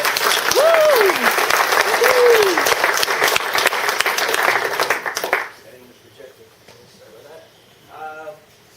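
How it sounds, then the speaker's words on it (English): An audience claps loudly for about five seconds after a technical talk on NoSQL databases and flash SSDs, while someone speaks over the applause, then the hall quiets under softer talk. "I just want to give a great big round of applause to Brian Bulkowski, CTO."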